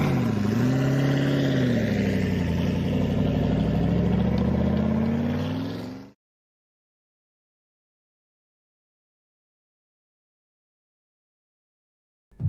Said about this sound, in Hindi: इंजन स्टार्ट हुआ और वे बिना पीछे देखे कुलधरा छोड़कर वहां से निकल गए